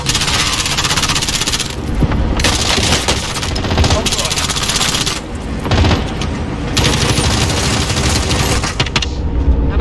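Artillery strike explosions and sustained gunfire from Call of Duty Warzone Plunder mode, a dense, loud barrage of bursts and booms continuing throughout with brief dips, mixed under voices talking.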